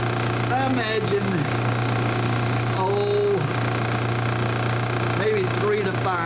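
A lapidary machine sanding a cabochon hums with a steady, even motor drone as someone talks over it throughout.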